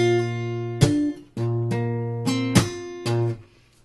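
A slow acoustic guitar line from a song, the start of a descending lick: about five plucked notes and dyads spaced apart, each ringing out close and alone with no talking.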